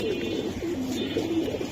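Pigeons coo softly and repeatedly in short, rolling phrases at a seller's setup of giribaj pigeons, moderately close over a steady background hum.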